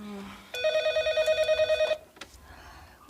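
A telephone rings indoors with one bright electronic trilling burst of about a second and a half, followed by brief movement and a voice.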